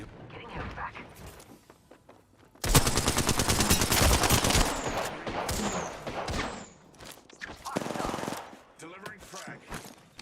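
Rapid automatic gunfire from an Apex Legends firefight, loud sustained bursts that dominate the middle of the clip, with scattered single shots and game sounds before and after.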